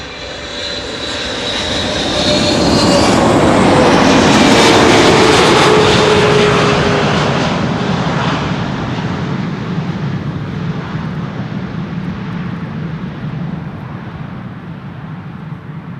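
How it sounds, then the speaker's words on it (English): An Embraer regional jet, an E2 Embraer 195 or an Embraer 190, arriving at Amsterdam Schiphol. A loud, close engine roar swells over the first few seconds, peaks, then slowly fades into a lingering rumble. "an E2 Embraer 195 arriving from Berlin and an Embraer 190 arriving from Leeds"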